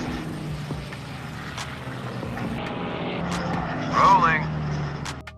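Military aircraft flying toward an attack in a war film, a steady broad engine drone throughout with a sweeping tonal whine rising near the end, mixed under film sound and voices.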